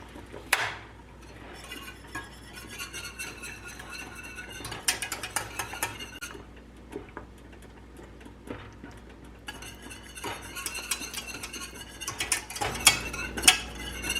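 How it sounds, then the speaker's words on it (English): Whisk scraping and clinking against a pot of orange chicken sauce as it thickens, a steady metallic ratcheting texture with sharper bursts near the start and end, no talking. "We're just going to whisk this until it starts to thicken."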